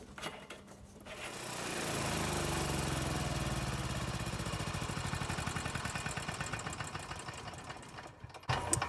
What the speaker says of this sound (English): let the generator run for a little bit